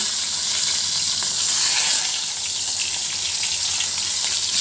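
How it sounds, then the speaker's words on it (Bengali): Brinjal pieces coated in salt and turmeric sizzle in hot mustard oil, a steady bright frying hiss that stays fairly loud and even throughout, with no voices. "তেল গরম হয়ে গেছে, এখন এই তেলের মধ্যে লবণ হলুদ মাখিয়ে রাখা বেগুনের পিসগুলো দিয়ে দিচ্ছি।"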